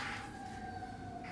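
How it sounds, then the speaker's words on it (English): A siren wails steadily at a distance, a sustained tone that holds over low background rumble. "Those sirens are going off."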